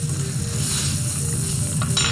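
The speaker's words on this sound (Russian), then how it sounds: "кусочек чего-то живого, что жарится у нас на сковородке" Chicken breast sizzles and fries steadily in a hot pan, a loud, continuous crackle close up with no voices.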